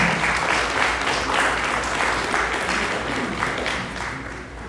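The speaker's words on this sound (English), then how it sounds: "So a round of applause." A graduation ceremony audience bursting into sustained applause, thick, even clapping from a large crowd that holds steady and eases slightly at the end.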